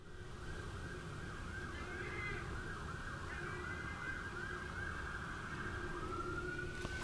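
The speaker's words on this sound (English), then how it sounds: "every imaginable siren is happening right now, outside." Wailing sirens from emergency vehicles rise and fall continuously in the distance outdoors, layered over a low steady rumble of background noise, with a plane passing overhead.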